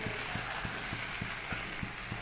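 Turmeric, cumin, coriander, chili, ginger, onion and garlic frying together in a pan, a steady sizzle with a regular tapping of a spoon stirring the spices about every third of a second.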